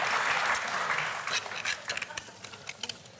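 A studio audience on a German TV cooking show breaks into dense applause, which thins into scattered individual claps within a couple of seconds and dies out.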